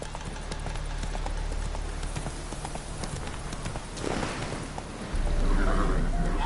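Roach the horse in The Witcher 3 trots with steady, rhythmic hoofbeats. The clip-clop runs throughout and grows heavier and louder near the end.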